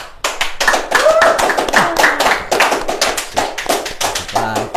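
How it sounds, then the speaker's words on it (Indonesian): A small studio audience claps in a series of distinct, uneven bursts of sharp hand strikes, with talk and laughter underneath. "tepuk tangan dong"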